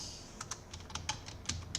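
Computer keyboard typing while coding, a quick irregular run of close, quiet key clicks and taps with no talking.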